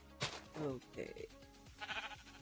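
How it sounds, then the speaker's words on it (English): Sheep bleat in a farm setting, a few wavering, harmonic cries close by, interleaved with a person's voice. "Hello, sheep."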